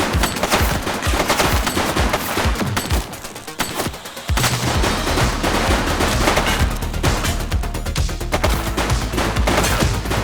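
Heavy gunfire in the police game The Precinct, loud rapid automatic bursts and dense volleys running almost continuously, briefly thinning midway before resuming with a steady low rumble.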